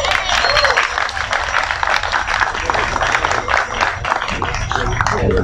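An outdoor crowd applauds at the opening of the Guacamaya Fest red macaw festival, loud and sustained dense clapping with crowd noise and voices mixed in throughout.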